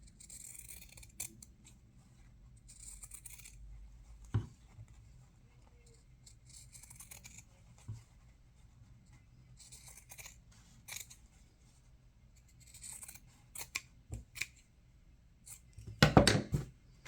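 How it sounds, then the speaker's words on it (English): Scissors trim fabric for a small bookmark in a few scattered, quiet snips spread out over a long stretch of near-silence, ending in a louder burst of cutting and handling. "I'm going to go ahead and trim that off a little bit"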